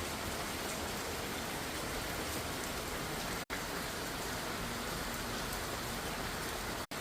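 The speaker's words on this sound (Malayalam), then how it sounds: "ഇതേ നല്ല രസമാണ് കാണാൻ മഴ ഇങ്ങനെ പെയ്തുകൊണ്ടിരിക്കുമ്പം." Steady rain falls on garden plants, a dense, even hiss of drops that carries on without a break.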